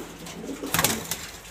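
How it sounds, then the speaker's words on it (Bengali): Several pigeons kept together at a pigeon seller's coop coo in short low bursts, with a louder cluster near the middle and one more call just after, fairly close over a quiet background. "সো ভিউয়ার্স সব মিলে এখানে অনেকগুলো কবুতর আছে"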